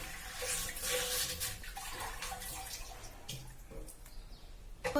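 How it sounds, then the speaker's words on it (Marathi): Water is poured into a clay water pot to rinse out dirt, making a soft, close splashing and trickling that fades toward the end, with small drips and a faint clunk. "मी पाणी टाकते त्यावेळेस तुम्ही पाहून घ्या किती घाण पाणी निघतंय ते"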